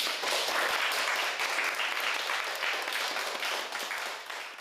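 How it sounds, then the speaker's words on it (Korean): Students end a class with a burst of applause, dense steady clapping from a group in a classroom that holds for several seconds and then starts to fade. "자, 박수로 마무리하도록 하겠습니다."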